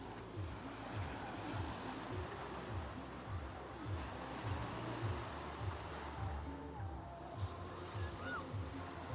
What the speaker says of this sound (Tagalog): Naririnig niyo yung sound sa background? Ayan yan. Ayun na yung dagat.